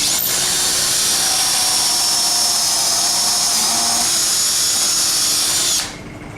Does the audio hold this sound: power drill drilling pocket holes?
yes